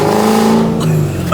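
Tuned Nissan GT-R making about 760 horsepower on bolt-ons and 30% ethanol, revving loud and close, a harsh sustained engine roar with a brief dip and climb partway through.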